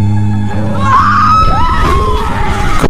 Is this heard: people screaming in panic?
yes